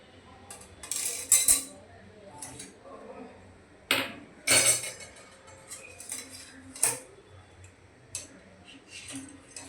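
A metal ladle scoops curry from a pot and serves it onto rice, making several sharp clinks and scrapes against the pot and plate, close and fairly loud, with brief talk in between.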